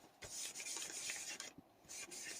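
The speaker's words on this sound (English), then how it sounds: "So I'm just distressing this page." Dry paper rasping as a book page is distressed by rubbing, a steady scratchy friction in short repeated strokes with brief pauses, close and fairly quiet.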